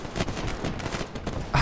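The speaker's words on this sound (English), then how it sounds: "Gunshot in the room." Rapid gunfire in the video game Unturned, with a dense burst of shots running through the clip and a louder blast near the end, with no talking.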